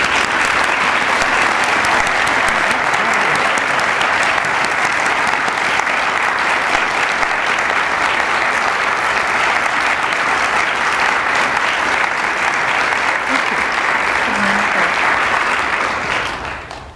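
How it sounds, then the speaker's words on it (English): A convocation audience at a Phi Beta Kappa and Society of the Cincinnati ceremony breaks into loud, dense, sustained applause, an even roar of many hands lasting well over fifteen seconds before tapering off abruptly at the close. "Let's give them a big round of applause"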